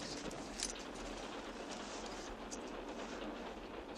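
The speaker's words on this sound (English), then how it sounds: "So the train will be pulling into Philadelphia soon." A passenger train rolls along the rails with a steady, dense rumble and hiss, heard from inside the carriage, continuous and fairly subdued with occasional faint clacks.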